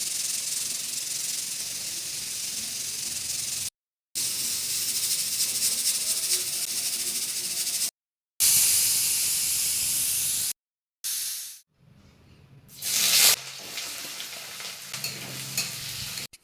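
Roughly chopped onion frying in a pan, a loud, continuous sizzling hiss broken by several short gaps and a quieter stretch with stirring near the end, with no talking.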